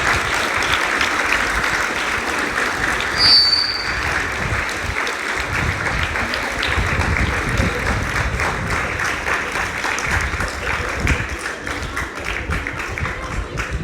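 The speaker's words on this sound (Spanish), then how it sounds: "Recibámosla con un fuerte aplauso." A school audience of students applauds the introduction of a presenter portraying Sor Juana Inés de la Cruz, with continuous, crowded clapping that stays even and moderately loud throughout, a brief high squeal briefly cutting through.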